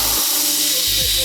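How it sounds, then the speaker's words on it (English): Air hisses out of the purge valve on a DL4000P air compressor, set halfway up the back of the tank. It comes as a loud, steady broadband rush across the whole clip, with a low mechanical hum breaking in and out underneath. "You want to purge the air container just like you would do with any air compressor."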